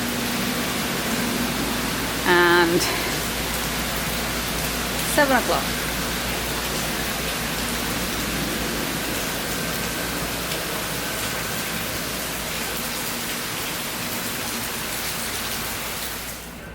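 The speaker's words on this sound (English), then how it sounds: "full on rain" Heavy rain pours down in a steady, dense hiss that fills the whole stretch, with a person briefly speaking and a couple of short tones early on.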